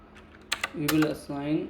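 A few light, quick clicks of typing on a computer keyboard while writing Python code, near and brief, mixed under a man's speech.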